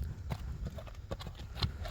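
A horse's hooves clip-clop on the ground in irregular, moderately near steps, several distinct knocks spread across the moment, with faint background noise.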